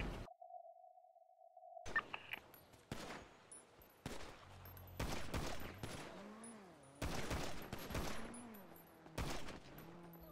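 Gunfire erupts in a GTA NoPixel roleplay shootout, a run of loud sharp shots and bursts following a steady electronic tone, with several heavy volleys in the back half.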